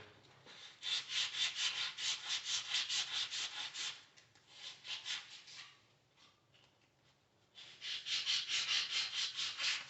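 The front axle area of a 1985 BMW 633 CSI is scrubbed clean in bursts of rapid, close, hissing rubbing strokes, with a pause in the middle and no talk.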